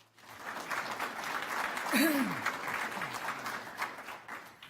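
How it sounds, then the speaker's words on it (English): An audience at a Chamber of Commerce county budget event claps for its sponsors, a fairly soft wash of applause that swells and holds, with a voice briefly rising over it near the middle. "Can we please give them a round of applause?"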